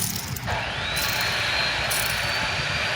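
A Honda Wave 110i motorcycle engine with a broken bearing makes a steady mechanical whine with a rising high-pitched tone over a continuous engine drone, loud and close, with no talking.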